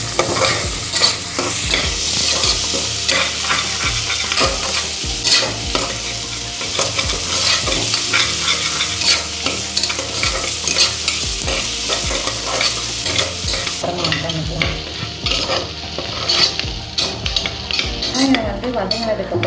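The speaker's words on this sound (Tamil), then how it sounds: "ஒரு வெங்காயத்தை நான் பொடிசாக கட் பண்ணி வச்சுருக்கேன், அதை போட்டு நல்லா வதக்கணும்" Finely chopped onion sautéed in a pan while being stirred, a loud close sizzle with repeated spoon scrapes and clinks against the metal, the sizzle softening toward the end.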